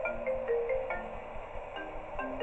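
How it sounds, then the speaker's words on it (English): A phone rings in the Five Nights at Nintendo Land game, a repeating electronic ring tone heard over a low, steady game-ambience hum with no talk. "Oh, we get a phone call."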